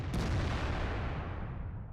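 A heavy tank gun fires in the video game World of Tanks, giving one loud, deep boom that rolls away into a long, fading rumble.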